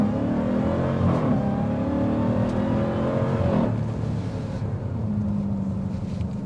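A 2025 Dodge Durango SRT Hellcat Hammerhead engine roars loudly and steadily under acceleration, with rising tonal lines suggesting supercharger whine, easing slightly after a few seconds with no talking.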